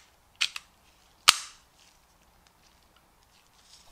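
Magazine inserted into a Colt 1911 cutaway pistol, a quiet metallic double click followed by a sharper, louder snap as it seats, then near silence.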